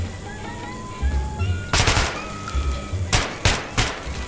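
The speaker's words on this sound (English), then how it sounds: "Feel free to try out your weapon on my firing range." Gunfire on a firing range in Metro 2033 Redux: a single loud shot, then a quick cluster of three close, sharp bursts, with faint melodic tones underneath.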